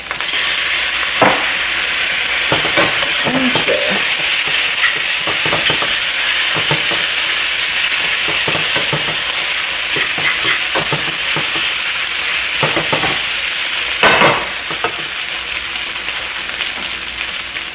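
Pork fried rice is stir-fried with sugar, oyster sauce and thin soy sauce in a pan, a loud continuous sizzle with repeated scraping and clinking strokes of a spatula.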